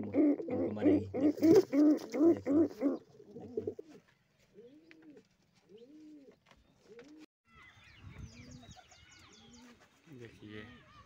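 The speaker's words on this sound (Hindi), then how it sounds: "सारे कबूतर अभी बाहर निकल रहे हैं" Domestic pigeons coo in low, rounded calls repeated one after another, following a louder, busier stretch at the start, with fluttering and scuffling later as they come out.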